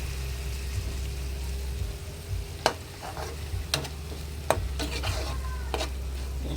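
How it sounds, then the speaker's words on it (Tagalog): Mung bean dish with sotanghon noodles and dried shrimp stir-fried in a pan, with a steady sizzle under a low hum and a few sharp scrapes and clinks of a utensil against the metal. "Sangag lang natin ng ganyan."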